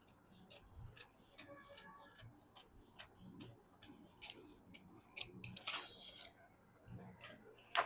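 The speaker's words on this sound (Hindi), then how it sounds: "नेक भी काट दीजिए" Scissors snip through fabric while cutting the neckline of a bodice pattern: soft, faint, irregular clicks and crisp snips in a quiet room.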